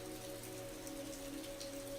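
Steady rain falling on surfaces in a park, a continuous dense patter at even loudness, with a low sustained musical tone underneath.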